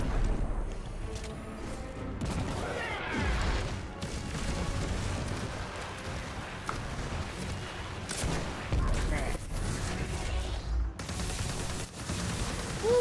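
Rocket fire and explosions in the Destiny 2 video game, a dense, continuous barrage of booms, blasts and rapid gunfire that stays loud throughout, with crashes layered over a rumbling low end.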